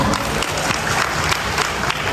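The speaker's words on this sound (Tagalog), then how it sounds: "Isa pang palakpak para sa inyong lahat." Dense, continuous audience applause at a live comedy show in a casino venue, loud and close with individual claps standing out.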